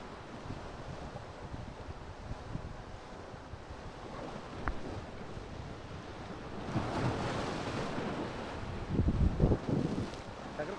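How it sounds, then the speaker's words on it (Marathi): Rough sea waves crash and churn along the coast before the monsoon, a continuous roar with gusting wind that swells louder toward the end. "पावसाळ्याच्या आधी समुद्र खवळला हा घ्या हा खवळलेला समुद्र"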